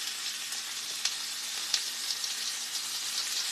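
Pork chop searing on a hot grill pan brushed with vegetable oil, giving a soft continuous hiss with a few faint pops, fairly quiet and steady, no speech.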